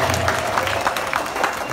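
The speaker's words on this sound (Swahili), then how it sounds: "Tumshangilie Mungu kwa makofi" A congregation claps at a confirmation service in an Igoma parish church, a continuous crowd of hands rattling briskly with voices mixed in underneath.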